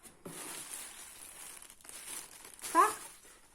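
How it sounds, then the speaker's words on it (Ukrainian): Cardboard order box of Farmasi cosmetics being unpacked, with soft crinkling and rustling of packaging throughout and a louder crumpling burst near the end, close to the microphone with no talk. "йде розпакування у нас"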